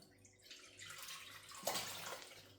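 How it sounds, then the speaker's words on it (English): Liquid poured off soaked citrus peels while making a homemade surface cleaning spray, a soft, close splashing trickle that builds and peaks briefly about two-thirds through before tapering, with no voices. "So all we're going to do is pour your liquid off,"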